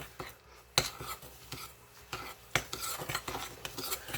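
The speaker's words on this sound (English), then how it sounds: "And then I'm going to mix all of this together." Ingredients for chocolate-covered treats being mixed by hand in a bowl: a spoon scrapes and clinks against the sides in an irregular rhythm, close and fairly quiet.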